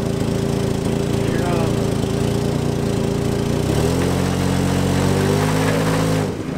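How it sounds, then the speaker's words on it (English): A stuck vehicle's engine runs loud and steady as its wheels spin in place. The droning pitch drops and shifts partway through before cutting off abruptly at the end. "your wheels are just spinning"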